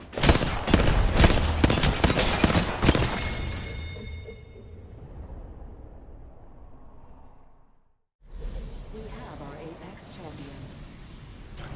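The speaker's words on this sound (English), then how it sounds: "There's 3 people shooting that poor fellow." Several Apex Legends players firing on one target, dense overlapping gunfire with crackling bursts and impacts for the first few seconds, then fading into quieter game ambience with talking over it.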